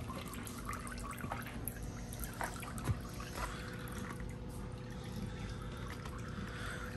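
Water from a siphon hose trickles and pours steadily into a bucket, a continuous close liquid stream with small splashy variations and a faint mains-like hum beneath.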